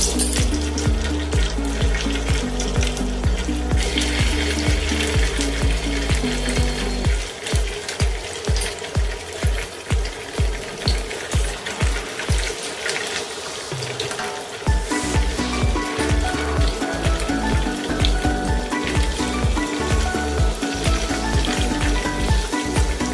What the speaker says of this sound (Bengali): আমি এবার পনিরগুলো ভেজে নেবো।